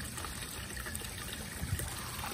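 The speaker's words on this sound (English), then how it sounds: "Gonna have a little bit of water come in here." Water pours in over fish tank gravel being rinsed, a steady close trickle and gush that runs continuously with a small splash near the end, no voices.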